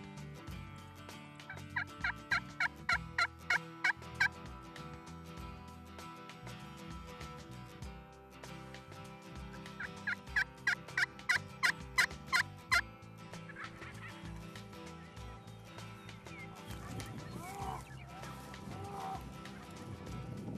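Merriam's wild turkey gobbling outdoors in spring in Nebraska, two bursts of rapid repeated gobbles several seconds apart, fairly distant over a steady background.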